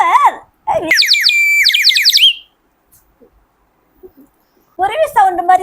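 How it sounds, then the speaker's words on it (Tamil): A water-filled plastic magic bird whistle toy chirps like a sparrow, giving a close, loud burst of bubbling, warbling trills, with people talking just before and after. "குருவி சவுண்ட் மாதிரியே வருது. குருவி கத்துது."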